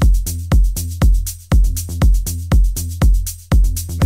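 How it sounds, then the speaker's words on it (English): Melodic techno synth bassline built from a synth preset, loud and alone, repeating steady plucked bass notes in an even rhythm about every half second, each with a bright attack and decaying tail. "this kind of bassline usually work as well with a synth sound like this one I've got"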